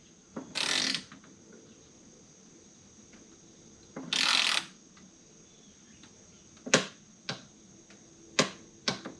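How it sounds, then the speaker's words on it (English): A small torque wrench tightens a wire terminal in a sub-panel to 25 inch-pounds. Two soft ratcheting bursts come first, then several sharp clicks, all close and quiet with no speech. "This is a really nice little torque wrench"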